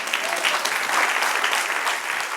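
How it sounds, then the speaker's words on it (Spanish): Congregation at a church Bible class clapping together in steady, dense applause that holds at an even, fairly loud level for the whole stretch, with no voices above it. "después de darle un aplauso al"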